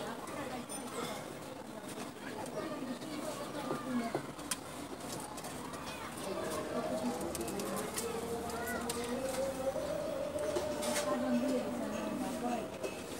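Pigeons in their housing coo in low, throaty, rolling calls, several birds overlapping close by over a steady background, while a person talks throughout.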